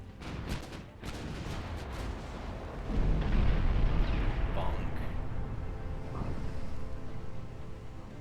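Naval guns firing in the warship game Ultimate Admiral Dreadnoughts: a few sharp early reports, then a heavy, sustained booming rumble that swells midway and rolls on loudly to the end.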